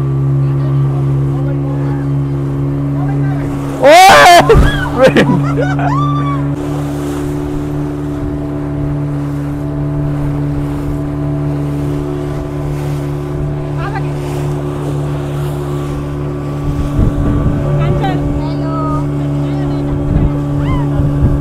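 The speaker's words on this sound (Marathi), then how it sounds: "तर मित्रांनो आपण बसलोय होडीत आणि आता आपण चाललोय बोट राईड करायला" Motorboat ride on the sea at Diveagar on the Konkan coast, with a steady engine drone running throughout, a brief loud burst near the start, and voices talking over it.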